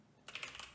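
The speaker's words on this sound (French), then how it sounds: "je tape la commande suivante" Brief, soft burst of computer keyboard typing nearby, a handful of quick keystrokes entering a command while setting up a Python virtual environment, faint and alone without talk.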